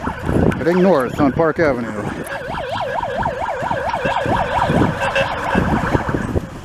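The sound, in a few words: emergency vehicle siren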